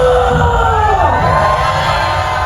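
Crowd of diners at a busy themed restaurant in Gramado, Brazil, shouting and cheering together in one sustained, loud, dense roar lasting a couple of seconds, with no individual voices standing out.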